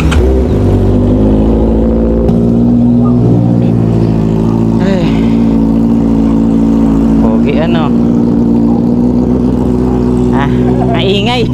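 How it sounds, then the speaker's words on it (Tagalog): Honda CBR650R 2023 motorcycle engine on a cold start, a loud, close, steady high idle drone filling the whole stretch, while people talk briefly over it. "Cold start."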